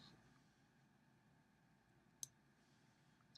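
Scissors snip off excess chenille while a fly is tied on a quiet bench, two sharp, faint clicks standing alone against near silence.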